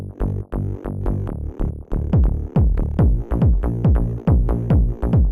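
A raw plucky bass, a distorted Reese bass layer and a kick drum play together in a driving, evenly pulsing pattern, with punchy low thumps under a steady buzzing synth and ticking hats on top.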